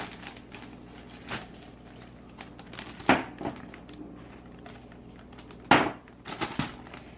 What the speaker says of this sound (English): Take your flour and dump it in.